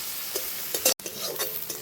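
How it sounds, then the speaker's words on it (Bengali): Sliced onion and green chili fry in a pan with a bright, close sizzle, broken by quick stirring scrapes and a brief cut-out near the middle. "পেঁয়াজ কাঁচা লঙ্কা একটু ভেজে নেব"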